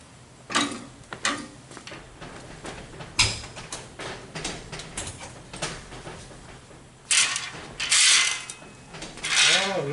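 An oven door is opened with welding gloves to remove metal airplane weathervane pieces heated to 400 degrees, giving a run of close creaks, clunks and metallic rattles with short gaps between them, and a brighter scraping burst near the end.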